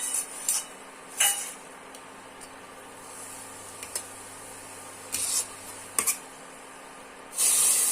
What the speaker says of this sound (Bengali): মশলাটা কষানোর জন্য অল্প জল দিয়ে দেব।